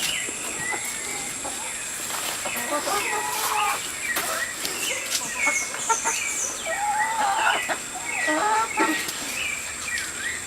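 A flock of chickens clucks and chirps steadily nearby, with scattered rustling and faint voices in the background.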